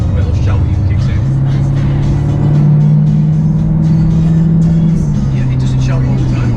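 Jaguar F-Type R engine and exhaust rumble with a low droning note that rises and holds under acceleration, heard from inside the car alongside talk.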